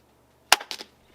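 A single sharp crack from a Gamo Arrow .22 PCP air rifle fired at a target, followed by a quick rattling echo that fades within half a second.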